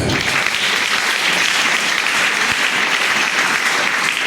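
A church congregation applauds loudly and continuously, a dense, even wash of clapping from many hands lasting several seconds without a break.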